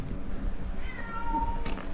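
A cat gives a short, thin meow partway through, faint and somewhat distant, over a low background rumble of outdoor noise around a kayak being deflated.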